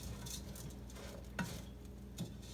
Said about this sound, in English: saute this together until the rice starts to stick to the bottom of the pan